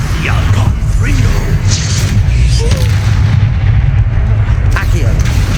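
Spell blasts from Confringo and Incendio crack and boom repeatedly in the video game Hogwarts Legacy, layered over a dense, loud rumbling battle bed with scattered sharper bursts.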